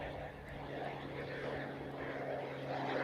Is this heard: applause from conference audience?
no